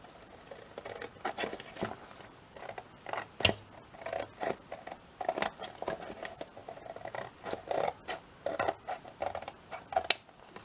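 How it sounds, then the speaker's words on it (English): Scissors snip repeatedly at close range while trimming material for a handmade journal cover, a quick irregular run of crisp cuts with short pauses, no voices. "Let's just trim all of this down like this."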